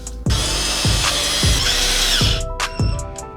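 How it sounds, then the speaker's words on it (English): A cordless power drill whirs in repeated short bursts, each starting with a thunk, then several quick stuttering pulses as it slows near the end with its battery running out. "I believe the drill is out of battery."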